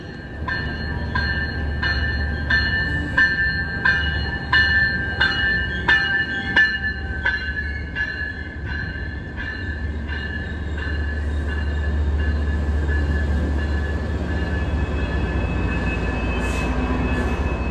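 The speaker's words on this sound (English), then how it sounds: "There's a train coming in like 3 minutes." A commuter rail train rumbles into a Boston station with a steady low roar, metallic squeals and rhythmic wheel clatter over the rails, growing heavier as it pulls close.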